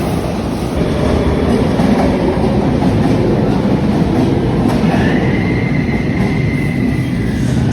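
A passenger train pulls into a station with a steady, loud rumble of rolling wheels, and a thin metallic wheel squeal rises partway through, with no talking.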